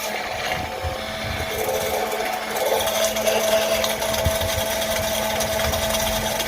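A small blender motor whirs steadily for several seconds mixing lotion, its pitch rising slightly as the blending intensifies, close and continuous.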